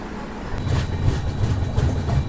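Visakha Express pulling away from Naupada Junction, heard from on board; a steady rumble of wheels builds with faint rail clatter and a thin high squeal as the train gathers pace.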